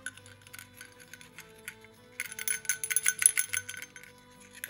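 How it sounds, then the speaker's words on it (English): A pair of small bear bells jingle in a bright, tinkling burst midway, after a quieter stretch with faint background hum; the ringing is close but soft. "Bear bells."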